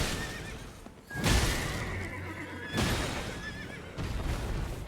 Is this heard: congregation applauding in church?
no